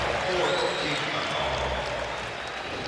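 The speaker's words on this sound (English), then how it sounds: "An aggressive Andrew Bynum getting a nice round of applause from the appreciative crowd." Crowd applause at an NBA basketball game between the Lakers and Heat, a broad, steady wash of clapping and cheering filling the arena throughout, with a commentator talking over it.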